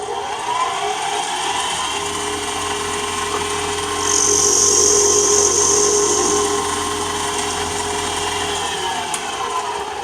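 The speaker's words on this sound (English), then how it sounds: "I'm going to turn on the lathe and I'm going to cut this flat" Wood lathe squaring the end of a pen blank flat, a steady motor whir and hum with a brighter high-pitched cutting hiss swelling in the middle, then easing back to the running drone.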